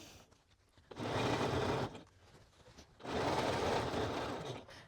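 A home sewing machine stitching a bomber jacket runs in two sustained bursts, each about a second long, with a low mechanical whir between them, close and steady.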